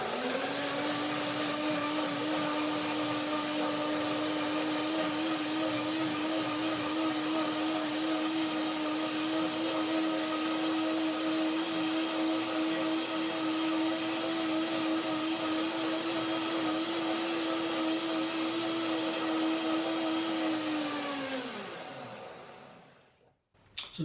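A kitchen blender purees walnut, apple, banana and milk into a soup, its motor holding one loud, steady whirring drone for over twenty seconds before winding down and stopping.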